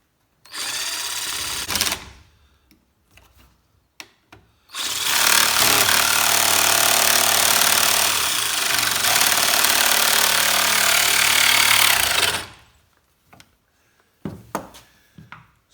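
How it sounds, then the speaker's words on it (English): A saw bites into material for a plunge cut during a portable AC unit install with an interior screen: a short burst of motor whine, scattered handling noises, then a loud sustained cutting run of about seven seconds, with brief clatters afterward. "when you're doing your plunge cut, it's important, as soon as it starts to touch, you have to kind of draw the saw in a forward motion"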